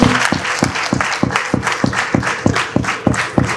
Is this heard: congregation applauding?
yes